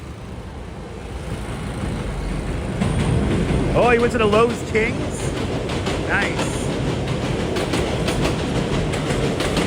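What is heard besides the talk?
New York City subway D train passing on elevated tracks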